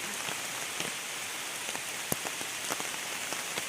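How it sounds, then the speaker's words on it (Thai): Steady rainfall at Khao Chamao waterfall makes a constant close hiss, with individual drops tapping now and then on nearby surfaces; nobody speaks. "มาน้ำตกแต่ฝนตก"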